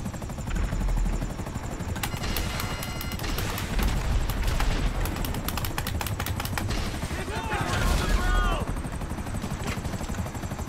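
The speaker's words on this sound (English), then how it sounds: "There's a barrage of missiles here." A missile barrage in GTA Online lands around a helicopter: rotor drone, rapid bursts of gunfire and explosions, and whistling missile streaks, with someone talking over the action.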